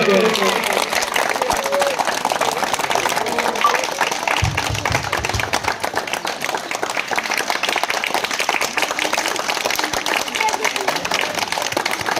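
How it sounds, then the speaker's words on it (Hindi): Crowd applause welcoming a guest being garlanded at a Ravidas Jayanti ceremony, a dense, sustained clapping that fills the whole stretch at close range, with a voice talking over it. "आप लोग जोरदार ताली के साथ उनका स्वागत करेंगे"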